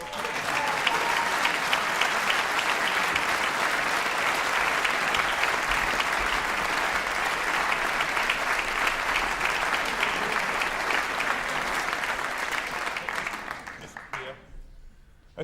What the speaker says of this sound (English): Just give her a big round of applause.